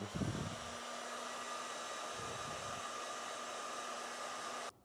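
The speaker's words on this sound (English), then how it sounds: "with the heat shrink style connector like this one I'm using, you can seal up the ends with a heat gun" A heat gun seals the ends of a heat shrink wire connector while installing a trailer wiring harness on a 2014 Mitsubishi, a steady close blowing hiss that runs unbroken for several seconds and then cuts off.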